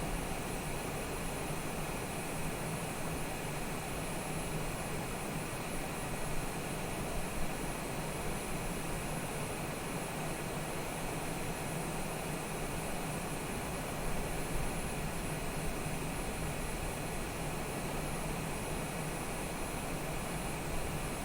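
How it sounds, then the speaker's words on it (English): Cessna Citation jet cruising on autopilot in MSFS2020, a steady, even engine and airflow drone that holds unchanged at moderate level for about twenty seconds with no voices. "it is just an aeroplane flying along on autopilot"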